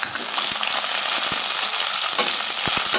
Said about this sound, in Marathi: हे सगळं परतून घ्यायचे.